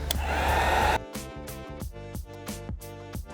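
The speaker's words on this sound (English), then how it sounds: "just apply heat to help the adhesive on the film activate faster" A heat gun blows hot air onto chrome delete vinyl film on a 2019-2025 Lexus ES, a steady rushing roar for about a second that stops abruptly, followed by quieter background sounds.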